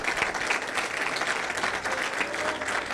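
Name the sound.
church congregation applause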